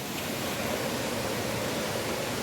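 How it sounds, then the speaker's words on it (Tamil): Agasthiyar Falls on a mountain trek pours in a dense, steady broadband roar of falling water, constant and fairly close, with no voices over it. "அகஸ்தியர் ஃபால்ஸில் இப்படி ஒரு அருவி"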